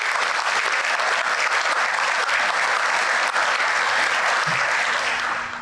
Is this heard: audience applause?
yes